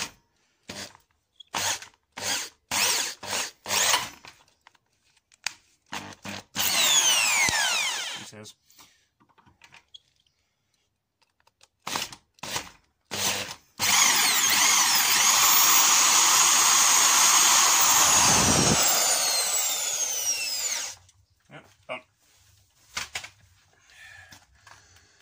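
A power drill bores holes through an aluminium linear actuator for a combat robot, with short whirring bursts, then two long high-pitched drilling runs that whine up and down, followed by clattering handling noises.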